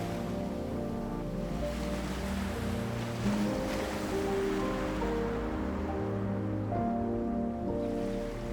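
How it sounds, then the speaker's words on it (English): Ocean waves breaking offshore near Cueva del Indio, a constant low wash of surf with background music playing over it, steady and moderately loud with no talk. "Amid the cool darkness and the constant sound of the waves offshore"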